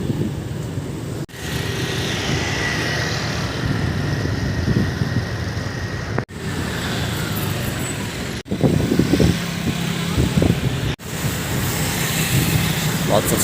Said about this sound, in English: Lots of scooters.